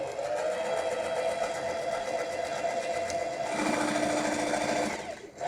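A sewing machine runs steadily as it stitches a dish towel, its even mechanical whir continuous and close, growing slightly louder and brighter near the end before stopping abruptly.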